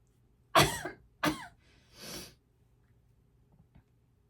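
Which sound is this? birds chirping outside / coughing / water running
coughing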